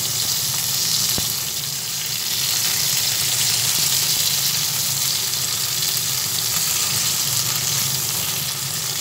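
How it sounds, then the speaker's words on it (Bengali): Ripe tomatoes frying in a pan for a tomato and garlic bharta, a steady close sizzle running unbroken throughout with a brief tap near the start, no talking. "এখানে আমি সব কটা টমেটোই দিয়ে দিয়েছি, ভাজা হচ্ছে।"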